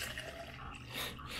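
Water pours steadily into a 14-ounce mug from an electric kettle for about a second and a half, a continuous close, moderately quiet stream with no talk over it.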